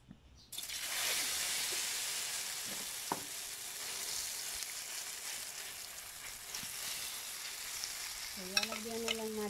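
An eggplant omelette hits hot oil in a pan with a sudden loud burst of frying, then a steady bright sizzle that holds on, with a few clinks of a utensil near the end.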